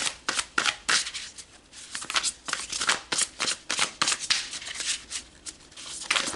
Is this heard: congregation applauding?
no